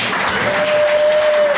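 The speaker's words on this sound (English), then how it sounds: "Give him a big round of applause." An audience at a Jamaican talk on the Maroons and Rasta claps, giving a dense, loud, continuous burst of applause that carries through the whole moment with no speech over it.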